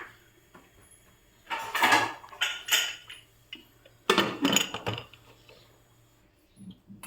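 A cooking pan is handled on a home kitchen counter while preparing a green pigeon pea curry: a few close metallic clanks and scrapes in short bursts, separated by quiet pauses.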